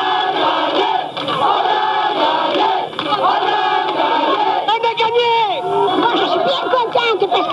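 Celebrating crowd fills the streets of Limoges after Limoges CSP's 1993 European basketball championship win over Treviso: dense, loud, continuous cheering, shouting and whistling, with chanting voices rising near the end.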